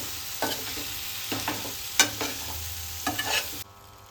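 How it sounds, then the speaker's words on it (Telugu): Boiled chicken liver stirred and fried in a pan on low heat: a steady soft sizzle under repeated scraping strokes of a spoon, about six stirs, before the sound cuts off abruptly. "ఇవి వేసుకొని సిమ్లో పెట్టుకొని చిన్నగా కలుపుతూ ఉండాలి"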